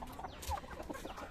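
Chickens cluck repeatedly inside a dim farm chicken shed, a dense, close chorus of short clucks and fowl calls with no talking.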